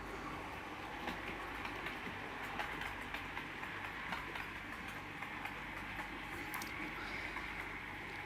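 A model railway locomotive of the East Somerset Railway type runs steadily around a layout, giving a continuous close rumble with faint rhythmic clicking from the track and no talking.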